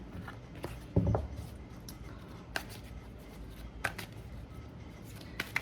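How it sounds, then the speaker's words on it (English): Stiff tarot cards being shuffled by hand, a quiet run of soft riffling and flicking with a few sharper snaps scattered through, close by and with no talk. "These cards can be a little bit hard to shuffle, so it might take some time."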